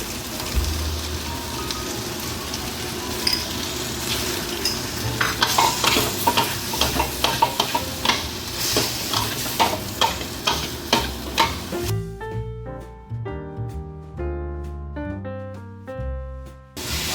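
Char kuey teow noodles are stir-fried in a hot wok: loud, continuous sizzling with rapid, rhythmic spatula scrapes and clanks that grow sharper and more spaced toward the end.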